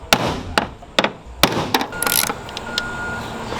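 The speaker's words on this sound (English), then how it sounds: "I kind of whack a hammer with the hammer." Several sharp metallic whacks of a hammer striking another hammer to loosen Jeep door hinges, loud and close at irregular intervals, with quieter clinks and rattles between them.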